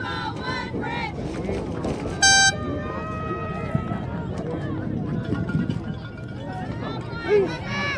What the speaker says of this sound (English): Here in the Woodbridge crowd start to make noise.